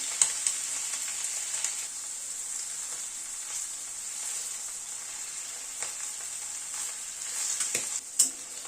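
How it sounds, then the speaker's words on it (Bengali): Cubed paneer fries lightly in a pan, in the first of two batches, with a steady, close hiss of sizzling oil and occasional faint stirring clicks. "দুবারে পনিরটাকে ভেজে নিচ্ছি"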